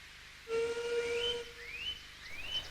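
A steam train whistle sounds with a long, loud steady note, followed by two shorter rising whistle toots over a hissing background.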